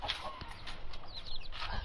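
Chickens in a household flock cluck softly at close range, brief faint calls over a low murmuring background.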